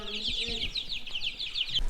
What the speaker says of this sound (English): the variety of chicken that we raise is called red sex-lings